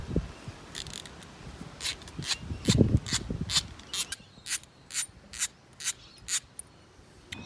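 A new aerial antenna is fitted on a 4WD, giving rubbing and ratcheting mechanical clicks, first irregular and then a regular run of sharp repeated bursts, close and fairly loud.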